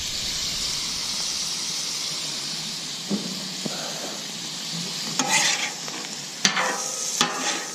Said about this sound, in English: Get a little steam with the beer ski for the final moments.